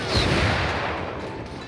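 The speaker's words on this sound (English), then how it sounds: "4th Guards are opening fire" Massed musket-style gunfire from troops in a strategy video game set on the Kawabe River, heard as a loud, continuous crackling fusillade with a dense roar and no distinct single shots.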